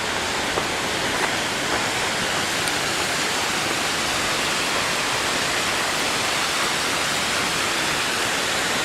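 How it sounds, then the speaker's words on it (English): Water from a tributary pours steadily over Grizzly Falls in Kings Canyon, a dense, loud, unbroken roar of rushing falls close by, with no voices over it. "So let's see, in this another tributary coming in, we can hear the water."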